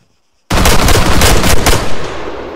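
Gunfire in the military shooter game Arma 3: after half a second of silence, a loud, sustained burst of rapid automatic fire erupts and rattles on continuously, tailing off slightly near the end.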